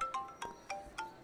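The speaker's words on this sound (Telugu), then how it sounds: "అమ్మాయి ఫోన్ రింగ్ అవుతుంది" A mobile phone rings with a repeating electronic tone, several short pulsed beeps in steady rhythm, quiet and thin with no voices.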